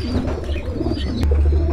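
Teddy pigeons coo inside a high-flying pigeon loft, with soft low rolling coos close by and a louder, deeper coo swelling near the end.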